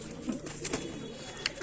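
Pigeons kept for sale coo softly in the background, faint and low amid some light ambient noise, with a brief higher sound near the end.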